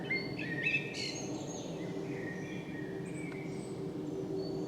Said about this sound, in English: This time joined by a blackbird.